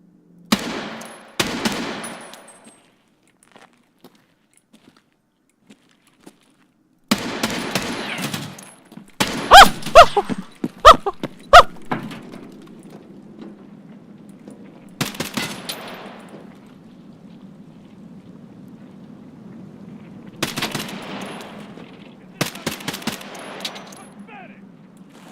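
Bursts of automatic gunfire fired through a floor in a video game, with loud clustered volleys separated by silent gaps and a low droning hum underneath.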